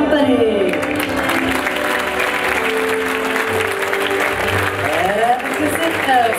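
Audience applause in the theater aboard the MSC Seaview cruise ship, a loud, continuous wash of clapping with music and voices running over it.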